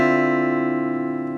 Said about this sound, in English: And that's going to be the D